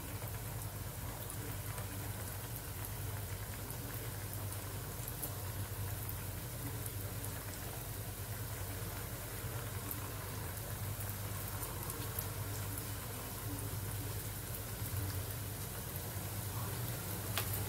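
Gulab jamun frying in hot oil: a steady, close sizzle and crackle like rain that runs unbroken throughout, with no talking.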